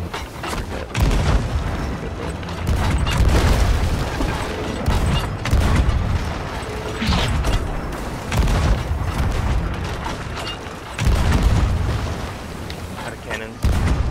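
Ship cannons fire during a brigantine versus galleon naval battle in the pirate game Sea of Thieves, loud booming blasts thudding repeatedly at irregular intervals amid general battle noise, with players talking over it.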